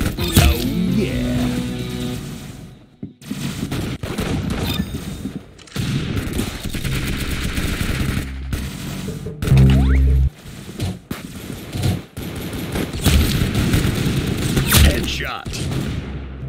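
Heavy gunfire in the Roblox shooter Arsenal, repeated bursts of shots and booming impacts mixed with game music and sound effects, loud and busy, broken by short silences, with a voice speaking over part of it.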